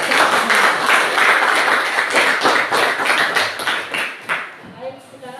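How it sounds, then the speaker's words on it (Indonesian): Classroom applause for a student presentation group at a university teaching session, a dense, steady patter of many hands clapping that fades toward the end. "kita kasih aplaus dulu ya untuk kelompok satu ya"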